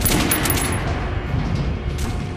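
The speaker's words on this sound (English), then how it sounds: "Now shoot the armored dummy." Rapid gunfire from a weapon in Metro Last Light hitting an armored training dummy at a shooting range, dense and loud throughout with a sharper burst near the start.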